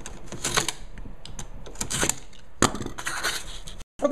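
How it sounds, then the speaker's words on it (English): Utility knife cutting away cardboard from a shelf backing: scraping, tearing strokes in irregular bursts, close and fairly loud, with one sharp snap near the end and no talking. "What we're going to do is we're just going to cut away some of the cardboard."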